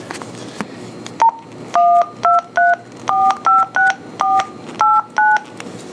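Keypad presses on a Motorola full-feature LCD radio microphone send a quick series of crisp DTMF tone pairs, about a dozen short loud beeps in uneven rhythm, with faint handling clicks between.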